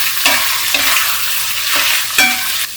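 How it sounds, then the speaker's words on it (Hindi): Black chickpea curry masala is stirred in a pan, the spoon scraping in repeated strokes over a steady close sizzle, with no voices. "ऐसे हम चला देते हैं"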